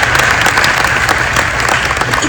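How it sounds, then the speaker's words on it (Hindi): Audience applause fills a hall at a student talk, a dense, steady clapping that stays loud and even throughout, with no voices standing out. "अपने लिए ताली बजाओ"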